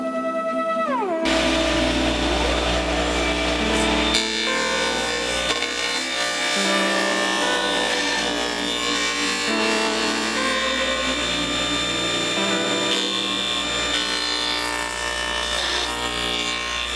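A saw cuts through wood boards for mid-century modern shelves in multiple passes, a loud, continuous close grinding rasp that runs the whole time with shifting pitch as the blade works, no voices.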